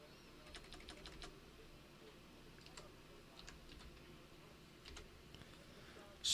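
Light keystrokes on a computer keyboard come in short scattered bursts of quick taps, faint and close, over a quiet background.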